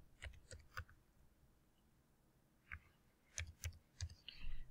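Faint, close computer mouse clicks on a quiet desk, a quick cluster of three or four, a lone click after a pause, then another rapid burst.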